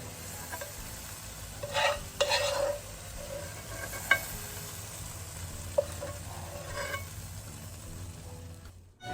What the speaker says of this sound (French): Vous versez la sauce sur le foie de veau